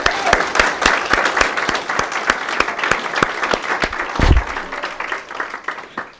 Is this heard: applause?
yes